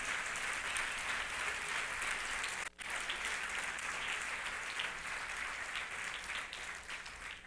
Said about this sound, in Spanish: Dele fuerte el aplauso al Señor.